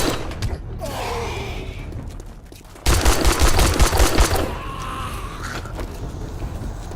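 Gunfire in the zombie survival game 7 Days to Die, a quiet creaking stretch giving way to a loud rapid burst of repeated shots around the middle, then a lower rumbling ambience.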